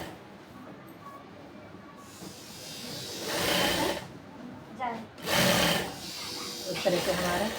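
A sewing machine runs in a couple of short bursts while top-stitching men's bermuda shorts, the motor whirring fairly close under a quiet background hum.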